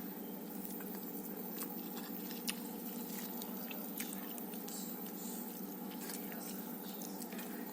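Soft wet chewing and biting of rice with homegrown eggplant curry cooked in a rice cooker, faint and close, with small irregular smacks and squishes over a quiet room hum.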